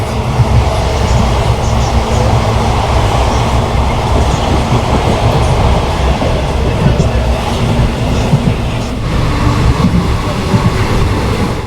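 A Ranaghat–Sealdah local train runs with a steady, loud rumble of wheels on track and a rattling carriage, voices faintly mixed into the din throughout.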